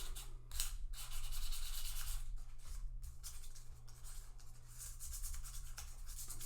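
Guitar frets being sanded with 800 grit sandpaper in light, continuous rubbing strokes, close and steady, with brief pauses between passes and no talking.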